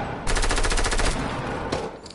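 Rapid automatic gunfire from other players in Fortnite, a dense burst of close shots lasting under a second followed by a brief second volley, no talk.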